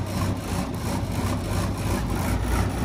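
Tractor engine idling, a loud low chugging rumble with a steady pulsing rhythm, close by and continuous with no talk over it.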